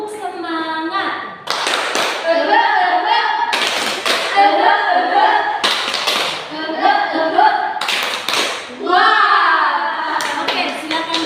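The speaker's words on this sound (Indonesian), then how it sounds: "Kita tepuk semangat dulu ya." Schoolchildren stand in a classroom during a micro-teaching lesson and do a rhythmic spirit clap. Loud, sharp bursts of clapping land in a regular pattern about every two seconds, mixed with the pupils' voices chanting along between the beats.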